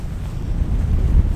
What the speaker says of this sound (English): As you can see, it's fucking windy.